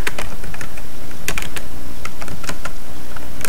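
Rapid, loud typing on a computer keyboard, with bursts of crisp key clicks and brief pauses between strokes.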